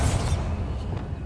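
The Bombarda blasting spell going off in Hogwarts Legacy, a single deep boom with a brief bright burst at the start that decays into a low rumbling tail.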